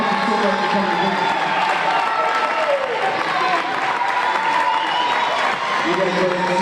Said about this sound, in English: we want to give a very big round of applause for Sugar Ray and Greg for coming